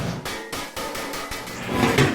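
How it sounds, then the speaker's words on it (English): A series of sharp knocks from a plastic hammer, roughly evenly spaced, close by, tapping down flooring. "that was my plastic hammer"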